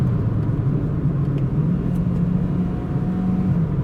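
A 2024 Mazda 2 facelift with a 6-speed automatic gearbox, heard from inside as the engine hums in a steady low drone with slight rises in pitch through paddle-shift gear changes, close and even, no talk.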